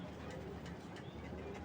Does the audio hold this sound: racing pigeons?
yes